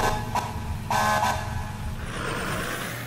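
Emergency vehicle horn in the game EmergeNYC sounds in a few short honks over a busy street traffic backdrop, followed by continued engine and road hiss.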